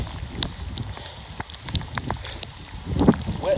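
Rain falls outdoors during a run, a steady faint patter with scattered drops and light wind noise against the microphone, with no talk over it.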